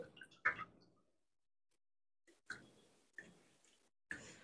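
Water wrung from a wet plaster bandage roll by hand: a soft drip-and-squish burst at first, then three short wet squeezes spaced apart, faint and close with quiet gaps between.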